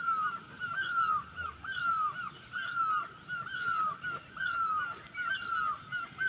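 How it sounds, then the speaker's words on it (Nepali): Birds call repeatedly in a steady rhythm, loud honking cries in short bursts with brief pauses between them, against a quiet outdoor background. "यो दुईटा चरा कराइरहेछ के हो नामै थाहा छैन"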